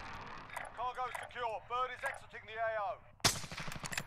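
Warzone gunfire erupts as one sharp, loud burst near the end, after a stretch of continuous talking.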